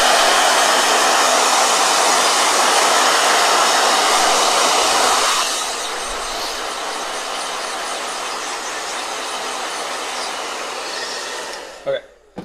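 A hair dryer blows with a loud, steady rushing whoosh, then drops to a softer setting partway through and keeps running before it clicks off near the end.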